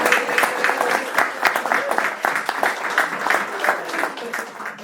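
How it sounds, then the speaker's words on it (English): A round of applause from attendees at a school district board meeting: many hands clapping steadily and moderately loud in a room, a dense patter with a few louder claps standing out. "Can we give her a round of applause for all the hard work she put into"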